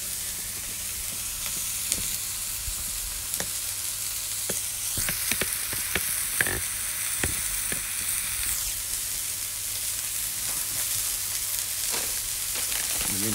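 Bacon-wrapped moink balls seasoned with Lawry's seasoning sauce and Montreal steak seasoning sizzle steadily and loudly in a pan, with scattered pops and crackles throughout and a brief hissing swell partway through.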